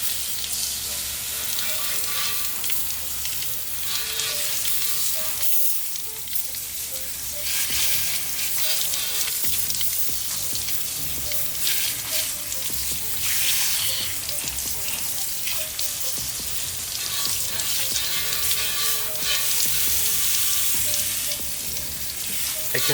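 Water spray rinsing a glossy black Jeep wheel after a wheel cleaner, a continuous loud hissing rush of water close by, with a short break partway through.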